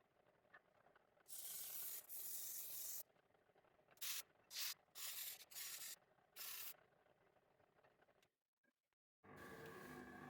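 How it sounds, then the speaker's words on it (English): Disc sander working wood for a homemade scarf hanger, quiet and fairly close, with repeated bursts of hissing abrasion of varying length separated by short pauses, the last pass starting after a moment of silence. "I'm using the disc sander here"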